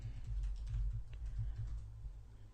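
Quiet, rapid tapping of keys on a computer keyboard, a short burst of irregular clicks close by with a low background hum and no talking.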